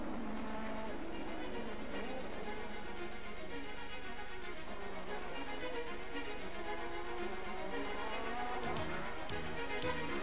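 Formula 1 cars race at the 1987 Monaco Grand Prix, with Senna chasing Mansell from the start: a dense, continuous roar of high-revving engines that stays loud and steady throughout.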